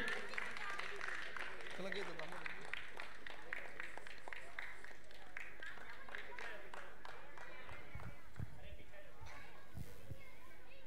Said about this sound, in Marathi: जोरदार टाळ्या वाजल्या पाहिजे, टाळ्या थांबल्या नाही पाहिजेत